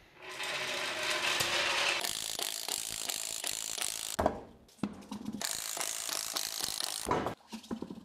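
A ratchet clicks rapidly in several bursts, loud and close, with short pauses between runs as a wrench spins lug nuts off a car wheel.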